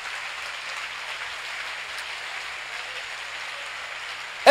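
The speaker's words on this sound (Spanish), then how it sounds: "Dale un aplauso fuerte al Señor Jesucristo en esta hora" Steady crowd applause at a church service, a dense even clatter of many hands clapping throughout, with a brief louder burst right at the end.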